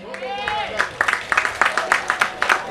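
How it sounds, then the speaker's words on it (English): Audience applause for a political party team at a 50th anniversary rally, scattered then steady clapping rising after a voice, with rhythmic claps building near the end. "we have to join and give a resounding round of applause for our team"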